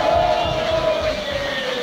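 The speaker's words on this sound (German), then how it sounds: "Kann ich mal Applaus haben," An audience at a German comedy show cheers and applauds in a loud, continuous crowd roar with a held vocal tone over it, lasting under two seconds.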